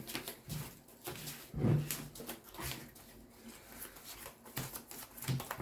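Tabletop miniatures game cards shuffled by hand at a table, a few soft riffling and rustling bursts with light thumps, fairly quiet and close, without talk.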